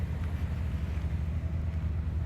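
A truck's auxiliary power unit running, a loud, steady low rumbling drone with an even throb and no pauses, close by with nothing else audible.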